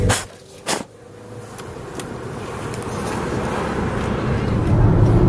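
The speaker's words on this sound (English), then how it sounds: "I'm just moving out into the traffic." Road traffic passes as a car pulls out into it, a broad rumbling wash of vehicle noise that swells steadily louder after a couple of brief bumps at the start.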